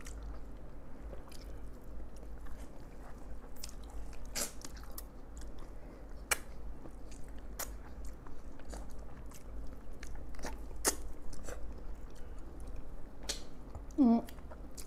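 Puri with mango pulp is chewed close up, with faint soft wet bites and mastication sounds scattered over a quiet background hum.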